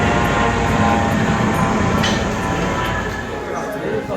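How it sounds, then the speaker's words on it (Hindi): A helicopter flying from Sanjhi Chhat toward Katra makes a steady, loud, droning whir throughout, while a person talks over it. "और ये हेलीकॉप्टर सांझी छत से उड़ता हुआ और कटरा की तरफ जाता हुआ।"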